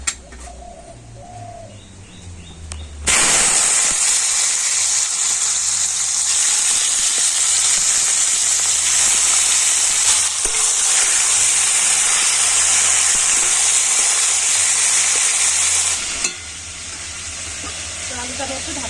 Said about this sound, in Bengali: আবার আমি কড়াতে একটু তেল দিয়ে দিচ্ছি আর এবার আমি আলু ভেজে নেবো